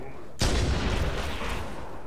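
Gunfire in Halo: Combat Evolved Anniversary, a sudden loud blast that rings out into a rumbling, decaying roar, close and heavy, with game noise and voice beneath.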